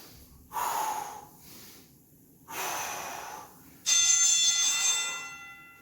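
Three heavy, forceful breaths during a no-equipment bodyweight workout, each a loud airy rush separated by short pauses, the last one sharper with a whistling edge, close and alone.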